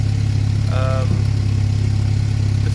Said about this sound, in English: The engine seems happy.